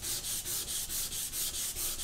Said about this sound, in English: I'll just kind of sand a little bit harder